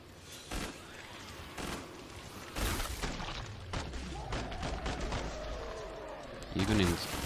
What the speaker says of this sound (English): I want to show you guys how quickly this gun runs through those 55 rounds